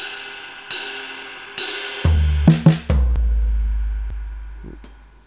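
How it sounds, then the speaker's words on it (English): Two crash cymbal hits ring out, then a quick run of rack tom strikes falling to a deep floor tom, with the cymbal wash decaying afterward. "I'll play it over on the crash, and then my tom, rack tom, floor tom"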